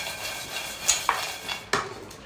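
Roasted masala peanuts and chickpeas tossed together in a bowl give a soft rattling stir, broken by a few sharp clinks of a spoon against the bowl, close by and with no talking.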